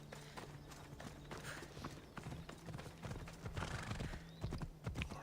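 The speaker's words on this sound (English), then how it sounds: "First we can use our horse." Horse hooves clop in the video game Assassin's Creed Odyssey: a steady rhythmic run of hoof beats at moderate level, with a brief whinny and no talking.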